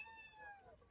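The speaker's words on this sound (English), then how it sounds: "Squeaky cat." A house cat gives a single thin, high, squeaky meow, faint and brief, against quiet surroundings.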